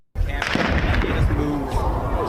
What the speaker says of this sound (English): It's definitely a gunshot.